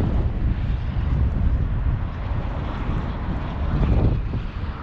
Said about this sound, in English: Very hard with the wind.